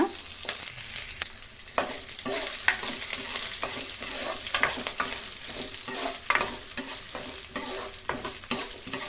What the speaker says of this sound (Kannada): ಈಗ ಇದನ್ನೆಲ್ಲ ಬಾಡಿಸೋಣ